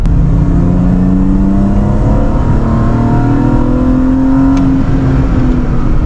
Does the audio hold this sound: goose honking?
no